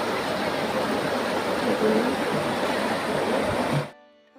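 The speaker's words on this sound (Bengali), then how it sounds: "সুন্দর জল ছেড়েছে" Fountain water at Mysore's Vrindavan Garden rushes and splashes in a loud, continuous, broadband wash that cuts off abruptly near the end.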